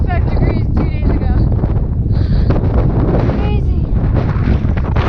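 Strong, steady wind roars and buffets the microphone on a mountain trail, loud and continuous throughout, while a person speaks briefly.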